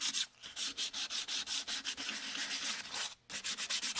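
Sandpaper roughs up the white paint on a wooden sign in quick, rhythmic back-and-forth strokes, close and fairly soft, with one brief pause before the strokes start again.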